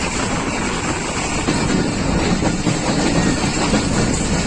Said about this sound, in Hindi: फुलरवान पहुंच रही है ट्रेन